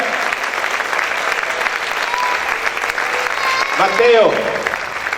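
Loud congregational applause fills a church, then a voice calls out briefly over the clapping near the end.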